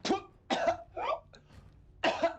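An impaled guard in an animated Avatar: The Last Airbender scene coughs up blood, giving four harsh, wet, close coughs in quick succession with short gaps between them.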